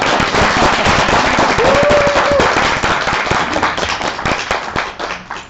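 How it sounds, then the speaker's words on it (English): Dense audience applause in an exhibition hall after a pitch at a Dutch-Malaysian business event, loud and steady for several seconds, then slowly thinning out. "A round of applause for Leeuwen"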